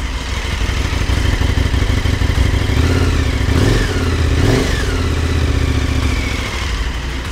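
A KTM 1290 motorcycle idles close up, then gets a couple of short throttle blips that rise and fall in pitch before settling back to a steady rumble, with no voices.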